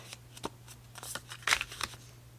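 Scored cardstock is folded in half for a lemon flower pot card, giving a few soft crinkling, creasing swipes with brief papery bursts, close and fairly quiet, with no talking.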